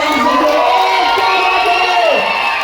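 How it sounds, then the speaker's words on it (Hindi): An audience at a D.El.Ed students' seminar in Patna claps and cheers loudly, a continuous roar of crowd noise with shouts and whoops. A voice rings out over the din. "जोरदार तालियां बजाइए सर"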